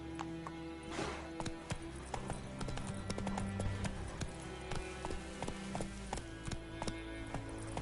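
Roach, a horse in The Witcher 3: Wild Hunt on PS5, gallops with a rapid, steady clip-clop of hooves that runs throughout. Game ambience sits underneath, and a brief whinny comes near the start.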